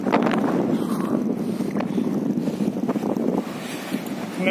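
Strong, steady wind buffets the microphone at a hilltop viewpoint at Kadelot Point, a continuous loud roar with gusty rumbling throughout and no talking.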